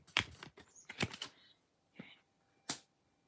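A deck of tarot cards shuffled nearby makes sharp, separate snapping bursts with short quiet gaps between them, fairly faint overall.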